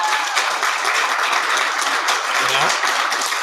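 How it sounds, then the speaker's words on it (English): Dense applause from a panel-discussion audience fills the room, steady and loud throughout, many hands clapping at once with a brief voice underneath near the end. "Round of applause for Cynthia."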